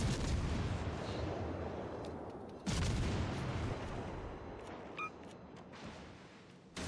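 Naval gunfire in World of Warships: Legends, a deep rolling rumble of distant heavy guns with a sharp boom partway through and faint mechanical clicks, steady battle noise underneath.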